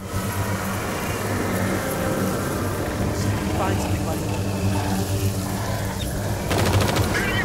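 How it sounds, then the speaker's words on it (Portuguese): Dense rapid gunfire crackles continuously under engine noise and rumble in the video game Blair Witch (2019), with a quick burst of automatic fire near the end. "Tá recebendo é tiro aqui, cara."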